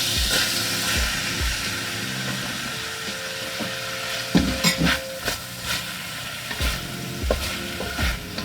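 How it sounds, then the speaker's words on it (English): Bok choy hits hot oil in a pan just after ginger, frying with a steady close sizzle and hiss while a utensil stirs and scrapes in a few sharp bursts, no voices. "Add a little more oil. And now I'm going to put in the bok choy."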